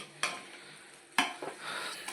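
Rice being fried and stirred in a pot for prawn biryani, a quiet hiss with two sharp scraping spoon strokes and softer stirring nearby.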